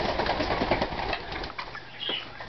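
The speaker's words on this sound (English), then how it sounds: "There's a bird on me." A Timneh parrot flaps its wings in a rapid, close, fluttering rush as it lands on a person, the whirring fading into a brief quieter rustle.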